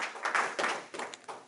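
Applause from an audience thanking a panel at a talk on African Igbo spirituality, a short burst of several quick, uneven claps that rise and fade over about a second and a half, fairly close and without talk.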